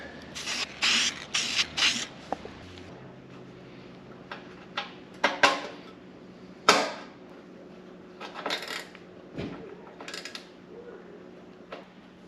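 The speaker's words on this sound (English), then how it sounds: "And finish it off with a clear coat." Aerosol clear coat sprayed onto a vintage Porsche 911 Targa part after a metallic copper base, several short hissing bursts of spray with pauses between, plus small clicks and creaks of handling.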